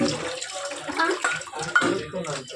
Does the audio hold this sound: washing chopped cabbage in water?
yes